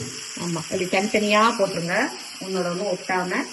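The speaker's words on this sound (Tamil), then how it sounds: "இப்போ எண்ணெய் நல்லா சூடா இருக்கா, அதுல ஒண்ணு ஒண்ணா இப்படி போட்டுருங்க" Chicken pieces drop one at a time into hot oil and fry with a steady close sizzle, while someone talks over it almost the whole way through.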